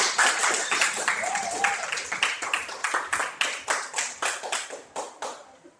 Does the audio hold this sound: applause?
yes